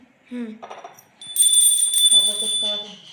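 A small hand bell rings steadily during a Hindu puja at home on the last Thursday of Margashirsha, bright and close. Speech comes before the ringing and returns beneath it.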